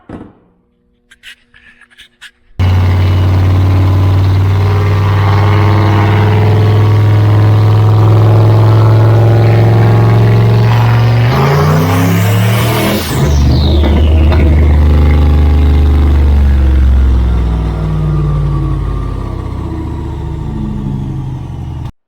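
Turbocharged Corvette making over 1000 hp on a dyno, engine roaring loud and sustained through a long full-throttle pull, pitch rising steadily before easing off and winding down.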